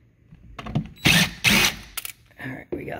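A screwdriver backing out a screw from the upper kick plate of a Cove dishwasher, giving short close mechanical ratcheting bursts with brief pauses between turns.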